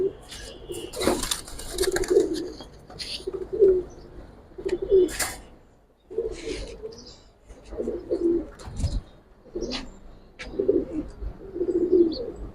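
Racing pigeons at a loft coo close by in repeated soft, throaty phrases, several birds overlapping, with brief bursts of flapping and clatter between calls.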